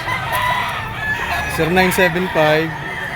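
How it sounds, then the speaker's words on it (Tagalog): Boston Roundhead gamefowl roosters crow up close, two or three loud, drawn-out calls in quick succession over a background of clucking and faint farmyard noise. "May dala siya ditong 4 na manok. Ayan, 3 sinibalang at isang pula. Boston Roundhead."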